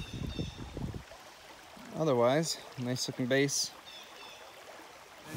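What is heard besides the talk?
roar of a waterfall in eastern Kentucky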